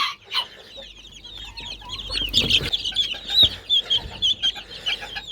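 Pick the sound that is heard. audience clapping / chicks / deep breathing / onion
chicks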